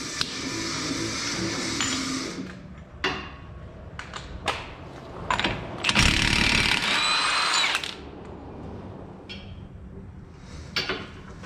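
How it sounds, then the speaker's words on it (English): Power impact tool working a 32 mm CV axle nut on a 2010–2013 Mazda3, loud close bursts of whirring and rattling hammering separated by short pauses and clanks. "next we're going to be removing the CV axle nut. It is a 32 millimeter."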